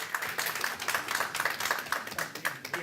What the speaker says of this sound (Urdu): زلفی صاحب کے لیے تالیاں۔